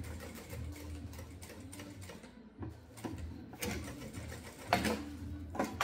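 A sewing machine finishes the seam on a synthetic leather waist pouch, running in steady low mechanical whirring bursts with brief pauses and a few sharper clicks near the end, close up.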